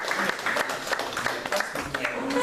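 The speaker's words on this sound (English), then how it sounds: "please give a round of applause for our guest speaker" An audience at a Brooklyn Tea Party meeting applauds as guest speaker Robert is introduced, a steady spatter of clapping with voices mixed in.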